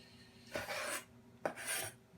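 A kitchen knife trims the stem and ends off fresh tomatoes for a sauce, giving two short, close rasping cuts about a second apart, quiet and without speech.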